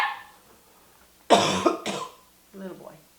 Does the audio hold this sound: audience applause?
no